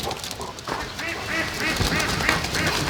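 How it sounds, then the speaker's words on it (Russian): Geese on a farmstead honk repeatedly in a loose, uneven series of nasal calls, fairly close, over outdoor background noise. "Обнаглели эти гуси."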